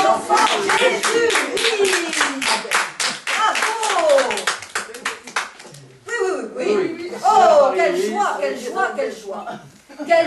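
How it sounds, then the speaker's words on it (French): Audience applause for a nun contestant on a game show, rhythmic clapping in a room mixed with chuckles and talking, stopping briefly and then resuming. "Eh bien, nous allons applaudir sœur Marie-Louise de l'Enfant Jésus."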